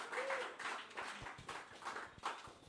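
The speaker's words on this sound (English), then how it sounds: "So a round of applause for that." Applause from an audience at a community event, a steady wash of many hands clapping at moderate level with a few sharper bursts, somewhat distant, running throughout.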